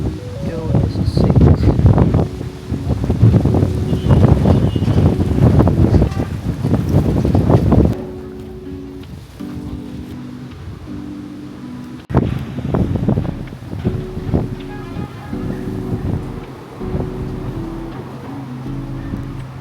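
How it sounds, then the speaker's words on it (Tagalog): Strong wind in Sapa, Vietnam roars and buffets the microphone in loud, rough gusts, easing partway through and then surging again, with a person talking faintly underneath. "Grabe yung hangin."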